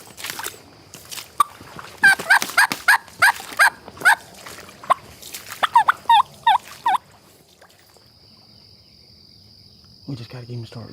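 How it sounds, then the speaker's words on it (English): A wild turkey in the field during spring turkey season, with a few loud bursts of calling and gobbling rattling out among other bird and insect sounds, followed by quieter woodland ambience. "that joker was gobbling like 3 or 4 times on his own"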